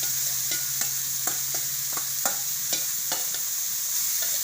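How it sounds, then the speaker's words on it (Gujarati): Grated carrots for carrot and mawa halwa being stirred and roasted in a pan over low heat, with a soft steady sizzle and repeated scraping strokes of the spoon at a regular rhythm, close and fairly quiet with no talking. "હવે આપણે એમાં ગાજર નાખી ગાજર આપણે ધીમા તરફથી શેકવાના છે"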